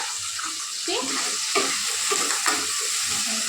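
Chopped tomato and curry leaves sizzling and frying in a hot pan while being stirred, a loud, close, continuous crackle with scraping stir strokes and no talking, for a bitter gourd curry.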